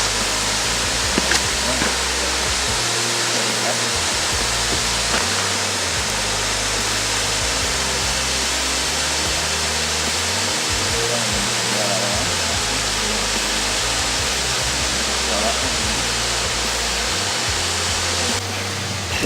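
A waterfall in Kakadu National Park pours into a pool, making a constant broad rushing roar that stays steady and fairly close throughout, with no voices.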